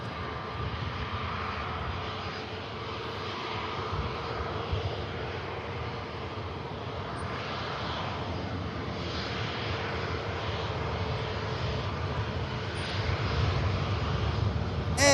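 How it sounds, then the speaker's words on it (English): Steady, broad roar of airliner jet engines at Manchester Airport, a British Airways airliner and a Boeing Dreamliner, sustained and fairly distant, swelling slightly toward the end, with no talking. "This will be followed by the British Airways and then the Dreamliner."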